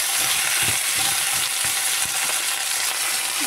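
Potato curry sizzles steadily in a hot pan with spices while a spoon stirs it, giving a continuous bright frying hiss broken by soft scraping knocks.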